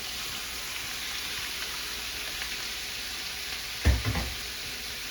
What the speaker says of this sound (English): I'm gonna put this down in our skillet